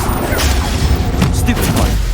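A booming explosive blast from the Confringo spell in Hogwarts Legacy hits loud and close amid a brief burst of combat noise, with a voice speaking over it.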